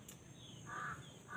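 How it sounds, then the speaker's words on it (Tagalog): A pet crow gives a couple of short, harsh caws close by against a quiet background, with no talk. "Ang alaga ninyong uwak."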